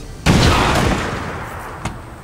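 A single sharp weapon shot cracks out in the video game XCOM 2: War of the Chosen. The loud blast decays over a second or two, followed by a fainter click-like report.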